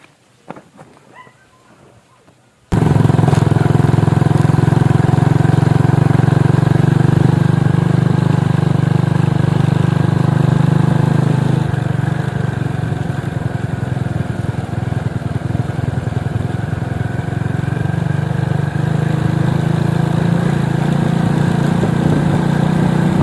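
A motorcycle engine starts up after a short quiet stretch of faint sounds, then idles loudly and steadily close by for about twenty seconds, with no talking.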